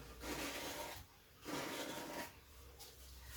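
Excess acrylic paint scraped off a surface during a fluid-art pour painting, heard as three rasping scrapes in separate strokes with short pauses, fairly close and moderately quiet, with no talking.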